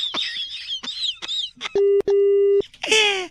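A telephone call drops and a disconnect tone sounds: two loud, steady electronic beeps, one short and one longer, come after brief chatter and are followed by more voices, on a radio prank call.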